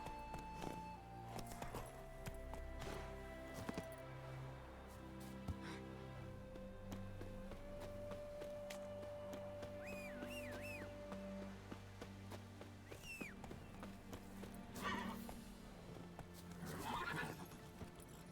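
Roach, Geralt's horse in The Witcher 3, clip-clopping along with a couple of short whinnies near the end, quiet and steady beneath a sustained orchestral music bed.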